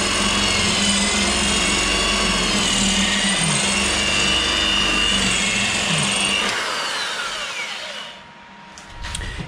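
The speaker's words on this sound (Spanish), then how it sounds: "Con este taladro no me da." A power drill whirs continuously while working in a car engine bay during an E36 engine swap project, loud and steady before slowing and stopping near the end, leaving brief faint clicks.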